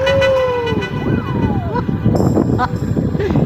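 Vehicle horns and a wailing siren sound amid busy traffic noise, with people talking and shouting in the background.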